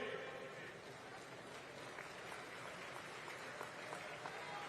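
A rally crowd claps together, a dense, even patter of many hands held at a moderate, slightly distant level.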